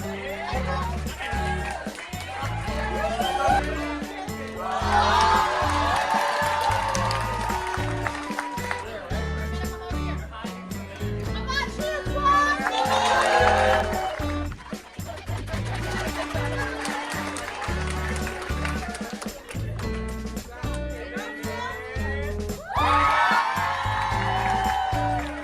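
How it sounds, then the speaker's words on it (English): Meeting attendees cheer and whoop for a rock-paper-scissors winner, a loud, sustained crowd roar that swells in waves alongside scattered claps and excited voices. "Cheer it up for Ashley!"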